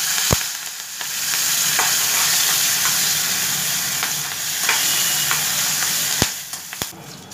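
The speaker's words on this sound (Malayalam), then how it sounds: "നന്നായിട്ടൊന്ന് വഴറ്റണം." Crushed pepper, cumin, cashews and curry leaves sizzle steadily in hot oil in a pan for pongal, with a continuous frying hiss and a few sharp clinks of a stirring spoon against the pan.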